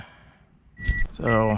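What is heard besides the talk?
car door-open warning beeping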